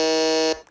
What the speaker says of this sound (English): going on the buzzer, go ahead